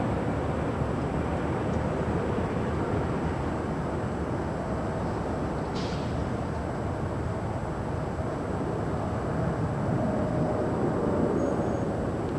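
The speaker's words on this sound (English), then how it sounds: "This is Turkish 8 Mike Tango coming in from Istanbul, 7879 Dreamliner." Turkish Airlines Boeing 787-9 Dreamliner arriving at LAX from Istanbul, a steady broadband jet roar held at a constant, moderately distant level throughout, with no voices.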